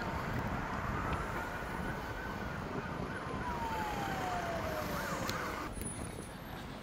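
Distant wailing fire truck sirens rise and fall over steady traffic rumble, one tone sliding slowly downward as the trucks pass at a distance.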